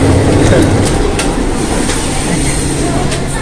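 Interior of a commuter train in Jakarta running on uneven track: a steady loud rumble and rattle of the carriage with faint clicks, continuous throughout with no speech.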